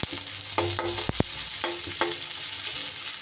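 Chopped onion fries in a pan, a steady broadband sizzle with a few brief stirring scrapes and clatters, close and continuous throughout.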